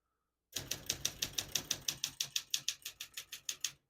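Keys strike on a 1966 Olympia SM8 portable typewriter in a quick, even run of about twenty sharp clacks. They sound close and crisp, with quiet between each strike and no talking.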